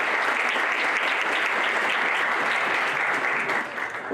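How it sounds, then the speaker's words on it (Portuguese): Clapping from a lecture audience at a BrazUSC 2015 talk, a thick, even roll of applause from many people that holds steady and thins slightly near the end. "Uma salva de palmas para vocês"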